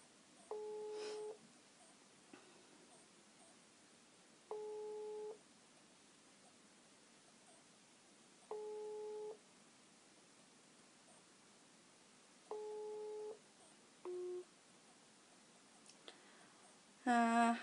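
Telephone busy signal repeating as four evenly spaced, moderately loud bursts of paired tones, each about a second long, over low line hiss, followed by a shorter tone and a louder final burst; no speech.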